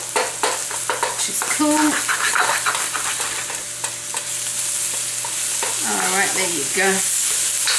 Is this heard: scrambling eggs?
yes